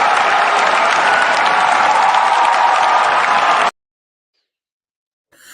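Loud, dense crowd applause from a mass of Giants fans roars steadily, then cuts off abruptly into silence.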